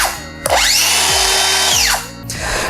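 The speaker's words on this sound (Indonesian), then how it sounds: "selang berapa detik aja dia mesinnya itu atau blade-nya itu dia langsung berhenti" A Stanley Fatmax V20 brushless cordless circular saw revving up in short bursts, each whine quickly winding down as the blade brakes to a stop, loud and close with no talking.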